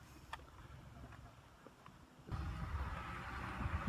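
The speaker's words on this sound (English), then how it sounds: "So I thought I'd find a nice quiet spot, only to find it'd be followed by this tractor." A tractor engine passing close by outdoors, a low rumbling drone that swells in loudly partway through and stays strong to the end, over faint wind and background noise.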